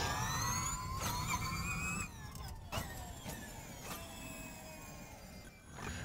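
Audi Abt Formula E electric race car with a two-speed gearbox, driven in the Automobilista sim at Circuit de Catalunya: a faint, steady electric motor whine with rising and falling tonal sweeps as it accelerates and shifts, no voices.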